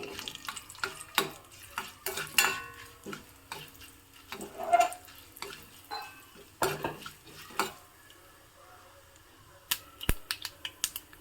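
Curry leaves sizzling in hot oil for a village-style oggarane tempering, with a low frying hiss under scattered clinks and scrapes of a ladle against the pan, close and alone.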